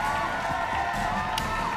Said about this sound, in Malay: Tepukan untuk mereka semua.